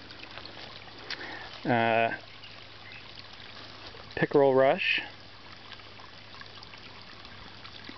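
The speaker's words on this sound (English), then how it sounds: "the pump under the water is working, and there's the outlet for the tube and putting some oxygen into the water" Water trickles steadily from the outlet tube of a solar-powered pump in a garden pond, a soft continuous flow under two short bursts of speech.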